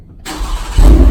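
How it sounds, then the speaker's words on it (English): Cold start of a 2020 Toyota Camry TRD through its TRD exhaust: a starter whirr catches into a loud, deep engine rumble that builds and settles into a strong idle close to the microphone. "do a cold startup for you guys so you guys can hear how the exhaust sounds when it first starts up"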